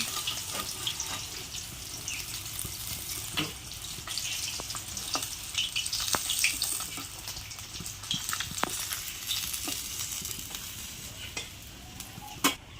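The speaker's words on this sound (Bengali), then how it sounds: "বাকি মাছগুলো এবারে আমি আবার ভেজে নিচ্ছি একইভাবে" Bhola fish frying in hot oil for a mustard curry, a steady close sizzle and bubbling with scattered sharp clicks and spatters from stirring, no voices.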